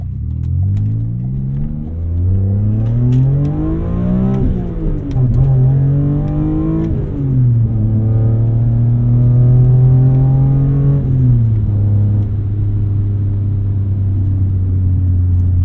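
An E46 BMW M3's S54 engine revs hard and climbs in pitch through the gears, with brief drops at each shift, loud and close, no talking.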